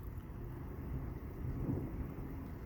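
Thunder from a huge thunderstorm in Cheney rolls as a low, muffled rumble heard from indoors, quiet and sustained, with faint rain beneath it.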